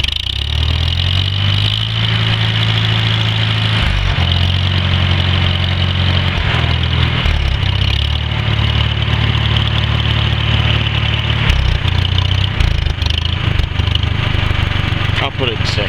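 A 1945 Farmall H tractor engine idles low and steady, a loud, continuous deep chug close by with a few small shifts in pitch and some background noise throughout.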